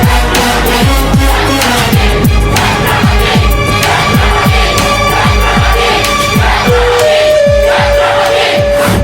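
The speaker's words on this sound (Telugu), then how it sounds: "అది చూసి జనం ఛత్రపతి ఛత్రపతి అని శివాజీని పొగిడారు" A large crowd in a Telugu movie scene chants and roars in a dense, continuous wall of voices, with rhythmic pounding beats underneath throughout.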